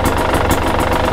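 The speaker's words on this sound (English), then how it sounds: "So it's idling quite nice now at about average of 1450." Husqvarna, KTM or Gas Gas dirt bike engine fitted with a TSP ERM power kit, idling steadily at about 1450 rpm, a loud, continuous close-up mechanical drone with a fast pulsing rhythm and no talking.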